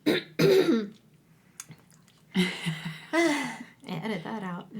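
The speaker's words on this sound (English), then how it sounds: "Listen to her cough right here." A woman coughs and clears her throat in a couple of short bursts near the start, then talk resumes over a quiet room.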